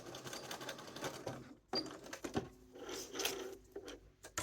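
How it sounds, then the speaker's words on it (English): A sewing machine runs a short seam in quick, close bursts of rapid mechanical chatter separated by brief pauses, fairly quiet and near. "So just do a quick sew along that line, like so."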